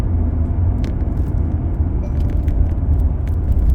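A car on the move gives a loud, steady low rumble of engine and road noise heard from inside the cabin, with faint light ticks above it and no talking.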